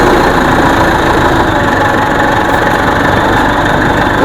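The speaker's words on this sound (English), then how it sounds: "that is Professor Asabre doing some moves with the tractor." A tractor engine runs loud and close with a steady, throbbing idle-like rumble, continuous and unbroken with no voices over it.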